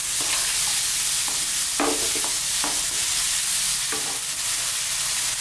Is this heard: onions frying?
yes